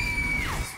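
A short, shrill scream in the horror game Outlast 2, a piercing cry that holds steady then bends downward and fades within a second over a dull low rumble.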